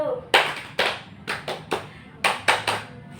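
Rhythmic clapping in an ice-breaking clap game during a peer group counseling session: about eight sharp claps in an uneven patterned rhythm, fairly close, with a faint murmur of voices underneath.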